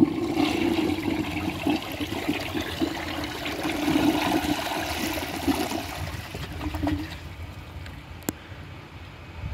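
A Compton toilet flushes in one sustained rush of swirling water. The rush runs steady for about seven seconds, then tapers into a gurgling refill trickle, with no voices.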